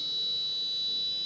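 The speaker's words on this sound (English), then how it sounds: "we have a low beep, which means that the level here is low" An Arduino-based sounding logic probe gives a steady, faint electronic beep, signalling a low logic level on a test pin, held alone for just over a second.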